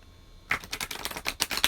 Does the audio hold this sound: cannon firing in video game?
no